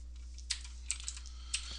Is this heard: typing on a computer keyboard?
yes